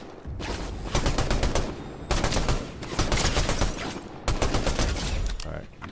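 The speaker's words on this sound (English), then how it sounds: "I'm getting shot at now" Rapid automatic gunfire in the video game Fortnite comes in three long, dense bursts of close, loud shots separated by brief pauses.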